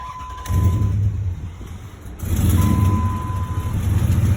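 A 2003 Dodge Ram engine with a cold air intake runs with a steady low rumble and a whooshing intake suction sound, revving up partway through, with a faint high tone in the background.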